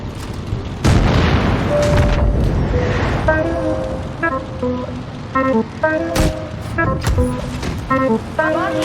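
Tank cannon fire in the World of Tanks Blitz video game booms loudly over a constant din of engine rumble, with sharp game sound effects and electronic tones stacked on top.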